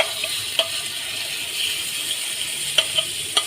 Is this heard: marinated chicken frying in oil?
yes